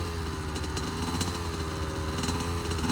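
A child's dirt bike engine buzzes steadily at low throttle, with a light high-revving drone and a faint flutter, close and moderately quiet, with no talking.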